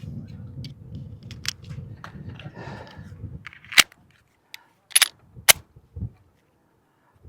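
A Sig P365 pistol fires again after a misfire is cleared: faint handling and rustling first, then three sharp, loud shots in quick succession, each cracking out alone against near silence.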